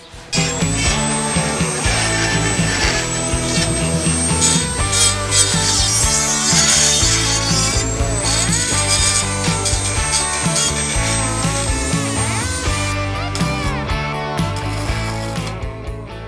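A Dremel rotary tool grinds and cleans metal on a Range Rover Evoque for welding during towbar fitting, whining loudly and continuously with a high steady tone and rough grinding scrapes.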